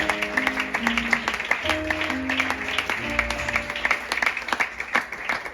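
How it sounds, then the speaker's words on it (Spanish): A church congregation claps together in quick repeated bursts while music plays underneath, the applause moderately loud and rhythmic. "Fuerte aplauso para el Señor"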